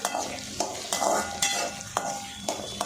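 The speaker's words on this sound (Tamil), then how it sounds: "பூண்டு பாருங்கள் இந்த அளவுக்கு நான் நல்லா வதக்கிட்டேன்." Garlic and onions sauté in sesame oil for a dry fish curry, giving a constant sizzle broken by regular scraping stirs of a spoon in the pan, close and fairly loud, without talk.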